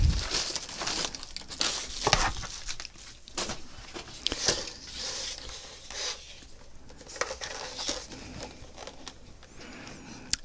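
Packing material and a paper envelope being handled while unboxing an STM32L4R9I discovery kit, giving a steady run of close, irregular crinkles, rustles and soft tearing with no talking.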